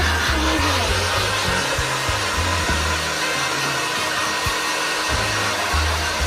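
A Silvercrest hair dryer from Lidl runs continuously, a loud steady whooshing roar of fan and airflow with slight shifts in tone, close and alone without talk.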